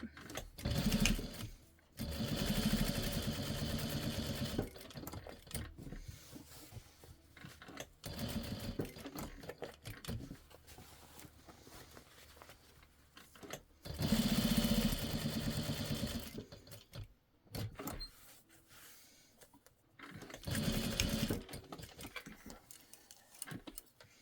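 A sewing machine stitches Velcro onto fabric in bursts of rapid, steady mechanical whirring that stop and start several times, close up, with short pauses between runs.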